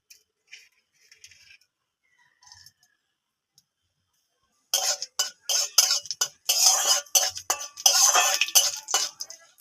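Panch phoron spices temper in a little oil in a wok. After a quiet start, a run of close, clattering stirring and scraping against the pan sets in, with light clinks.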